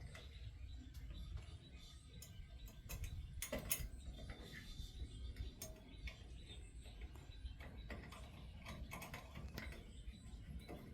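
Faint mechanical clicking and ratcheting of screws being driven while installing a budget lamp fixture for a garden cottage lighting system, irregular small ticks and creaks repeating throughout at low volume, with no talking.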